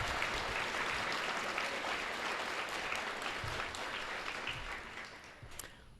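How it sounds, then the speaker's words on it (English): Steady applause from an audience at an elementary school Veterans Day assembly carries through nearly six seconds, a moderate crowd of clapping that gradually thins and softens toward the close. "Let's give all of our readers one more round of applause."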